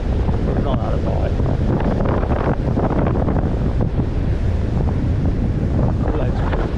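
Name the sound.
wind at a beach by cliffs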